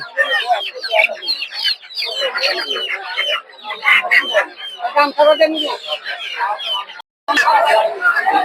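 Chickens cluck and squawk continuously at a busy, noisy livestock market in Golakandail, Bangladesh, with chicks peeping and occasional louder calls; a brief gap near the end.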